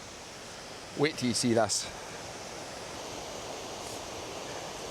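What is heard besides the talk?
waterfall, Falls of Linn river water rushing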